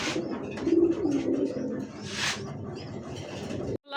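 Pigeons at a market stall selling fancy breeds, including a red indigo male, coo softly in a steady, low murmuring rhythm close by, with a brief higher chirp mid-clip and no talk.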